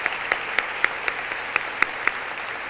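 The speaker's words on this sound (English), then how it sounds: "So big round of applause" Audience applause for a women's research council at an event: a sparse, moderately faint patter of clapping with distinct individual claps standing out at irregular intervals, no voices over it.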